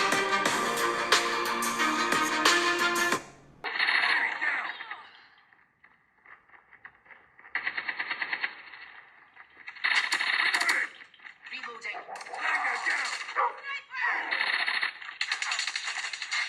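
Video game gunfire plays through the stereo speakers of a Lenovo Tab Y700 tablet: a burst of music, then repeated bursts of rapid shots and effects in a close, bright, compact sound.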